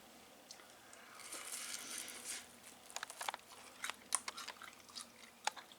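Crisp, crackling crunches from crunchy air-fried chicken wings, including flats dipped in ranch, bitten and chewed up close, building from a rustling chew into sharp, separate snapping bites toward the end.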